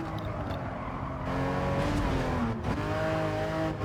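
A Porsche Cayman GT4 is driven hard at its limits on a circuit, its engine note loud and sweeping up and down with revving, alongside faint tyre noise, no voices.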